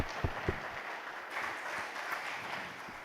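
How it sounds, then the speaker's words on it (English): Scattered clapping from a small audience at an investment conference, a few sharp claps at first, then a steady patter of applause. "A round of applause for Mr. Luis."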